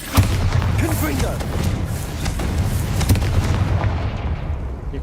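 In Hogwarts Legacy, a Confringo spell fires off with a sharp blast near the start, followed by rumbling booms and crackles over game sounds while a player talks throughout.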